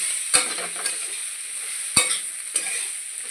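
Spices, including fennel and ground bay leaf, stirred into vegetables in a frying pan for a katla fish curry: a soft steady sizzle with a few sharp spoon knocks against the pan, close up and without speech.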